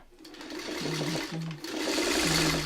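A sewing machine runs in short close bursts while stitching a quilt block, its motor whirring and humming with brief pauses and speed changes between runs.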